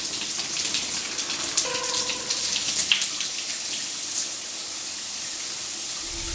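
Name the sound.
shower running water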